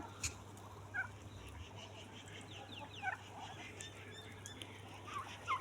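A rooster crows faintly in the distance amid a steady low hum and scattered bird calls, with a few short cackles rising over the background.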